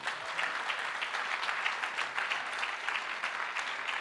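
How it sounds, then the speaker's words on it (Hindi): Sustained audience applause at a second-anniversary celebration, a dense steady wash of many hands clapping together for the full stretch, fairly loud and even with no talk over it. "मैं चाहूँगा सबसे पहले इस सिस्टम के लिए जोरदार तालियां हो जाएं"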